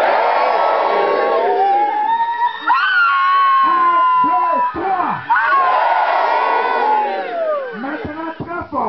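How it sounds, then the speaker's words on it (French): A large congregation at a prophetic church gathering shouts loudly and in unison on a count of three, with repeated surging bursts of massed voices and cheering. Sharp clusters of shouts punctuate the final seconds. "À la 3e fois, vous allez crier très fort Jésus"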